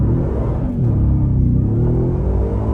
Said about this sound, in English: that pretty much just did a burnout and then lit up the tires every single gear